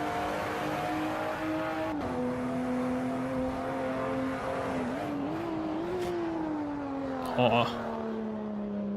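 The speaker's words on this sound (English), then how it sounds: "not a great sound with the engine revving that high" A sim racing car engine at the Red Bull Ring holds a high, steady whine with slight pitch shifts, and a brief exclamation cuts in near the end.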